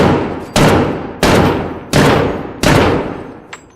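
Four loud pistol shots in the video game Fallout 4 VR, evenly spaced booming reports, each trailing off in a long decaying tail, close and alone with no talking.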